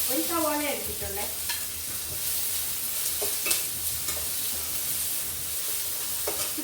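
Onions fry for a beef curry, with a steady sizzle and hiss from the pan and a few soft stirring scrapes and clicks.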